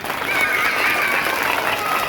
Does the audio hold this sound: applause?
yes